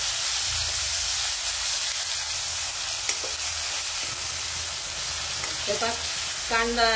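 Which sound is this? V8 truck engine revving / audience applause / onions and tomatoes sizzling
onions and tomatoes sizzling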